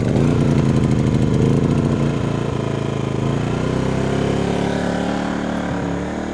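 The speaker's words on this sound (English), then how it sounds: "so we've got the generator powered on" A Siokiuu portable generator engine runs close by, a loud, steady, throbbing drone that holds unbroken and eases slightly toward the end, with no talk.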